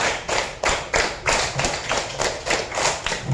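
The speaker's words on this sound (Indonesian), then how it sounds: "tepuk 2, tepuk 3, tepuk 4, tepuk 5, tepuk 5 2 kali" A classroom of students claps together in a counted pattern, producing about nine sharp, synchronized group claps in a steady rhythm, each a crisp burst with brief gaps between, close and fairly loud.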